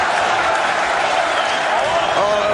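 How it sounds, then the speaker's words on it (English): A kickboxing crowd at Dome Sports City in Dubai roars and applauds during a bout, a dense, loud, sustained wall of cheering and clapping with no break. "The crowd here at the Dome Sports City, Dubai, raising the volume."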